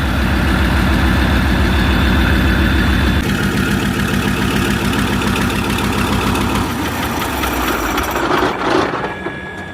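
A loud, heavy Mercedes-Benz engine from a Leopard 1 tank runs steadily nearby on a test stand outside the tank, with a deep throbbing drone that shifts in tone partway through and eases slightly at the end.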